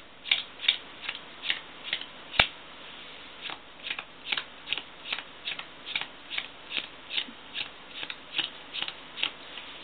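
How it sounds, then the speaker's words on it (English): Playing cards dealt one at a time into piles of fifteen, a steady run of crisp, evenly spaced slaps close by, with no talking. "he wants us to just put 15 cards down in each one"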